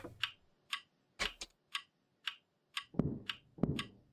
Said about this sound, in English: Clock. You are loud.